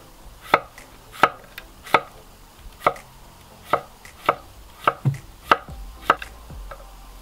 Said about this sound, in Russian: Таким образом нарезаю огурчик.